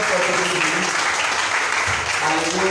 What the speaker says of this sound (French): Est-ce que tu peux donner une acclamation au Seigneur?